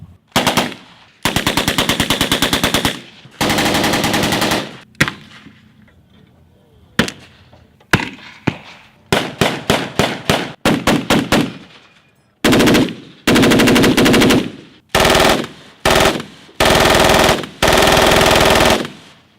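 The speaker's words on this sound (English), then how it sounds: "This is the 1918 A2 Browning automatic rifle, more affectionately known as the BAR." A 1918 A2 Browning automatic rifle (BAR) fires at a World War II reenactment, loud and close: bursts of rapid automatic fire alternate with single shots and short volleys, separated by brief silent pauses.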